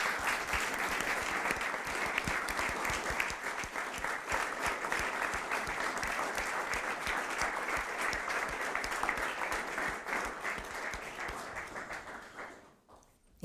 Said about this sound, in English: warm applause from the audience